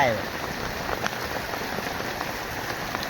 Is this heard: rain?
yes